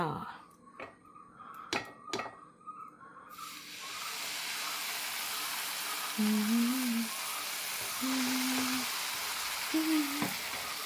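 A dosa cooks on an oiled pan: after a few quiet seconds of clicks and handling, a steady soft hiss of frying sets in and continues, with faint voice-like tones over it.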